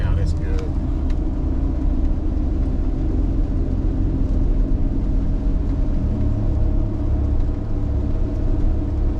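Steady tire road roar from Nitto Ridge Grappler tires on a lifted Ford F150 cruising at 45 mph, a constant low droning hum heard from inside the cab, with a voice talking over it.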